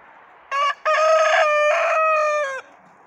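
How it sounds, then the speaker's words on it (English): A rooster with a worsening neck condition crows in a yard, one loud, close call with a short opening note, a brief gap, then a long sustained harmonic crow that fades out over about two seconds. "He's crowing in the yard constantly."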